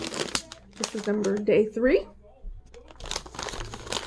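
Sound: opening a Christmas stitching advent box

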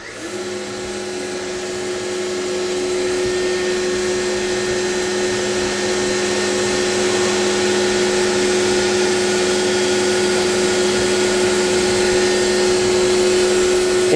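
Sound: US Concepts FAS-101 arch moulder running

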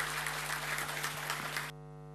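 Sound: audience applause welcoming the speaker

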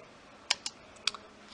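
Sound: shoe thrown on the ground, boom mic recording

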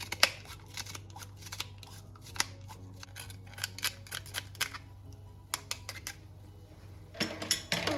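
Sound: grating two garlic cloves

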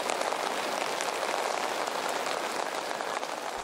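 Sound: rain falling in Chefchaouen

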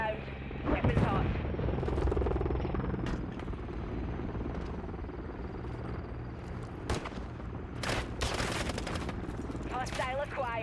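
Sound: close air support gunfire in Call of Duty MW III video game

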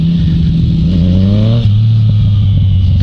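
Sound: loud motorcycle engine revving

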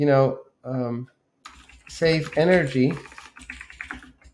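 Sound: typing on a computer keyboard

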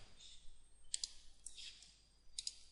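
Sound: computer mouse double clicking

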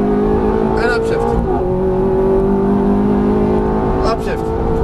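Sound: Ferrari F430 accelerating at full throttle and upshifting on track

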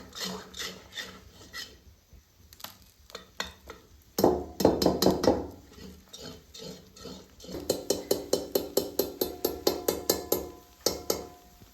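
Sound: stirring a mixture in a pan for vadi

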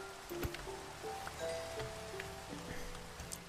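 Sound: rain falling in a Minecraft-style video game

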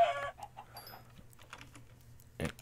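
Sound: chickens clucking in the video game Minecraft

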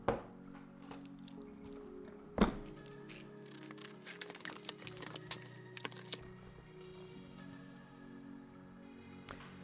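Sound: typing on Varmilo Miya Pro mechanical keyboard

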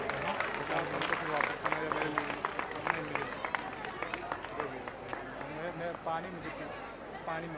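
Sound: audience applauding for the children

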